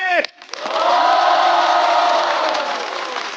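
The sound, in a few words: studio audience applause welcoming guests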